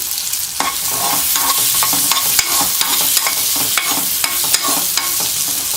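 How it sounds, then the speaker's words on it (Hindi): Steady sizzling of ginger and garlic sautéing in a hot pan, with frequent scraping and tapping as it is stirred, close and continuous. "अब हल्का सॉटे कर लेते हैं इसको हम"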